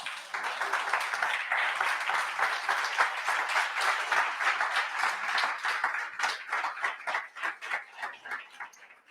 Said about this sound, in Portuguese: É um aplauso a Jesus.